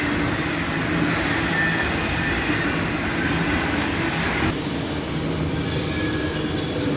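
Union Pacific freight cars roll past in a long train, a loud, steady rumble of wheels on rail with faint squeals and rattling, close by and unbroken throughout.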